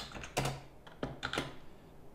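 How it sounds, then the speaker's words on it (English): Close, soft clicking of keys on a computer keyboard, a handful of quick, uneven keystrokes with short pauses between them. "we just need to type an @ symbol and then followed by their name"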